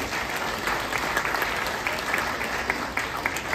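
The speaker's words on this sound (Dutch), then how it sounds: "Een groot applaus voor Vince." An audience applauds an eight-year-old pianist who won a music competition prize: steady, dense clapping from a crowd, fairly close and even throughout, with no talking over it.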